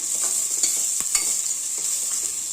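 Onion and garlic frying in hot oil for a sprouted moong sambar, a steady close sizzle with occasional stirring scrapes and clicks, no voices.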